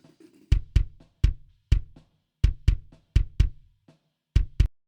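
An isolated kick drum picked up by the inside microphone, sounding as a pattern of about a dozen sharp, snappy, punchy beats with crisp attack, played alone in a steady groove with short gaps.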